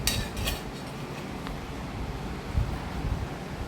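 Spice masala mixed with oil in a bowl as stuffing for sponge gourd, heard as close, continuous scraping and rustling with a few sharp spoon clinks at the start.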